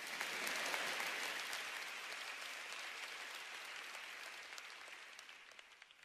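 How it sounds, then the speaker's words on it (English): An audience at a motivational speaking event applauds, a dense sustained clapping from a large crowd that gradually thins and fades over several seconds. "yeah, you can applaud that if you want."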